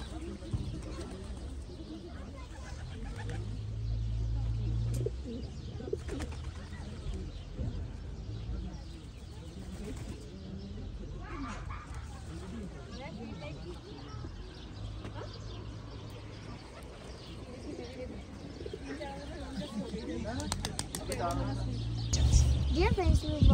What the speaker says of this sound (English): Wow, the pigeons are feeling thirsty in the cold weather.